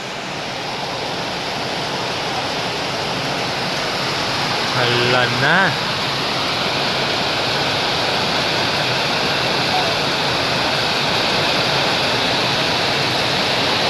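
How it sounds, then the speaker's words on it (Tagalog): Heavy rain pouring down on a small hut (kubo), a loud, constant broadband roar that fills the whole stretch, with a brief exclamation from a person partway through. "Grabe po, ang lakas ng ulan."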